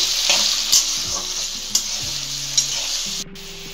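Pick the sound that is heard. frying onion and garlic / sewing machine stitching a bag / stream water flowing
frying onion and garlic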